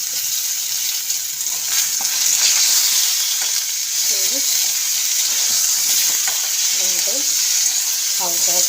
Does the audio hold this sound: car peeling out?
no